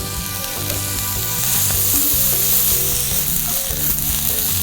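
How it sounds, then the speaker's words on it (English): Glazed pork chops with Swiss chard searing in butter in a hot pan, a loud continuous sizzle with faint stirring, heard up close over background music. "I'm gonna cook that till they're nice and caramelized. Chops are cooking."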